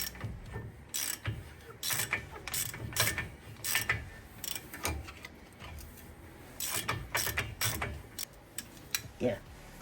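Wrench ratcheting and clicking while loosening a CV axle nut, the rotor locked against the caliper by a screwdriver, in irregular bursts of sharp metallic clicks and grinding that are close and fairly quiet.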